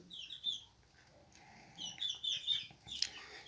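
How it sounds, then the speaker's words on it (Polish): Leghorn-type mixed-breed roosters in a small poultry flock give soft, scattered clucks and short calls, fairly faint and irregular, with quiet gaps between. "kilka kogutów, a konkretniej dwa lekhorny, no takie miksy, ale wyglądają jak lekhorny"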